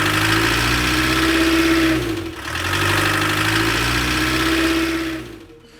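Volkswagen Syncro van engine running close and loud with a steady, even drone, briefly dipping midway before resuming, then cutting off at the end.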